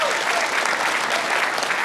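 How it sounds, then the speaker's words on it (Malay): A crowd applauds Prime Minister Anwar Ibrahim at a public gathering in Perai, Penang, with dense, steady clapping throughout. "kita berikan tepukan kepada Datuk Seri Utama Anwar bin Ibrahim, Perdana Menteri."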